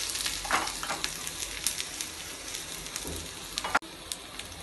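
Garlic cloves fry in a little oil in a stovetop pan, giving a steady soft sizzle with scattered crackles and one sharper pop near the end, close and fairly quiet with no talking.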